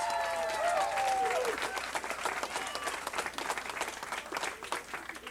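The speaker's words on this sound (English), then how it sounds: "Give them a round of applause." A crowd claps loudly in sustained applause, steady and dense throughout, with a brief whistle-like tone near the start.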